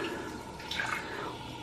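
Warm running water from a tap for rinsing off a peel-off face mask, a steady close splash and drizzle with small bright drips, no talking.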